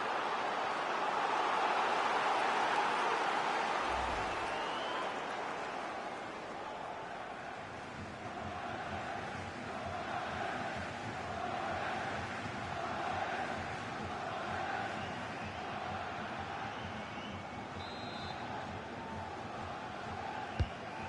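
A large football stadium crowd at an EFL Championship match between Portsmouth and Blackburn Rovers roars and murmurs in a broad, sustained wash of noise, swelling early and then holding steady at a distance.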